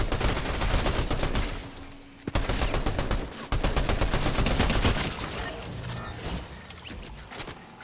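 Gunfire in a Fortnite battle royale match, sustained rapid automatic bursts with short gaps, loud and dense throughout, thinning toward the end, with no speech over it.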